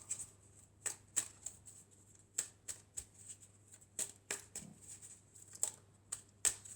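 A deck of tarot cards being shuffled and cut, a quiet series of sharp, separate card slaps and flicks at an irregular rhythm, close by and with no talk.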